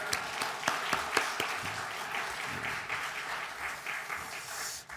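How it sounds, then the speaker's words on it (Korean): A church congregation applauds in welcome at a Sunday worship service, steady crowd clapping that swells and holds for several seconds, fairly close and alone, with a few stray voices mixed in. "할렐루야와 박수로 환영해 주시기 바랍니다."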